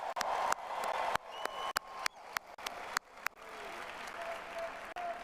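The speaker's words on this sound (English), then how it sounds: "Let's give them a round of applause." A political rally crowd in Arizona applauds first responders, a dense sustained wash of clapping. Sharp periodic clicks cut through it, and the applause thins toward the end.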